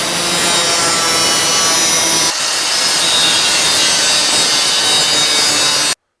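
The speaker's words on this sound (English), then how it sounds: "So we're gonna cut this section off." A saw cuts through a section of a 3rd Gen Toyota Tacoma front bumper with a loud, steady rasping drone that carries on unbroken for several seconds, then stops abruptly.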